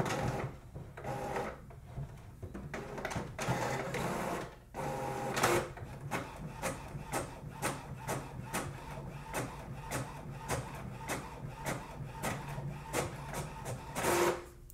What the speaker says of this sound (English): This printer prints quite quickly